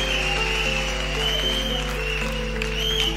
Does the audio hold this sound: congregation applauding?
yes